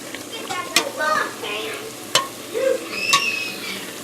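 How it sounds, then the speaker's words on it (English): Homemade doughnuts frying in hot oil give a soft sizzle with stirring clinks and sharp utensil taps, steady throughout at moderate loudness with no talking. "The donuts are all fried up."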